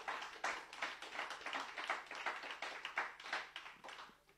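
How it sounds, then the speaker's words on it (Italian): A studio audience claps for a guest on an Italian talk show, a few hands beating a loose, uneven rhythm of distinct claps, fairly close and unaccompanied by speech. "Bisogna fare un applauso, per forza."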